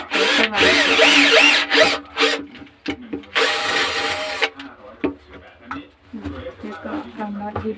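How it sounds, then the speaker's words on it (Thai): A power drill whirs in a few loud bursts, biting into material, with pauses between runs and someone talking in the gaps. "แล้วเราก็เจาะได้เลย"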